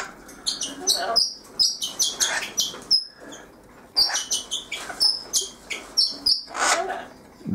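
A pet bird chirps and tweets in quick bright bursts close by, repeated in a lively rhythm throughout, with no talking.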